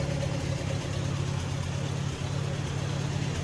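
An Allis-Chalmers WD tractor engine runs steadily nearby, with a continuous low chugging drone whose carburetor needs adjusting to even out.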